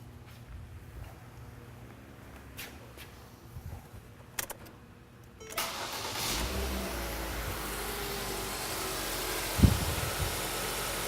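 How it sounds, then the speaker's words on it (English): A car engine cranks and catches partway through after some quiet handling noises, then settles into a steady, fairly close idle with a brief rev near the end. "So I'm going to start the car up and we'll get started."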